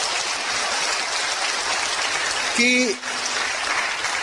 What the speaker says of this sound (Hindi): ब्रिट वर्ल्ड वाइड के लिए आप जोरदार तालियां बजाइए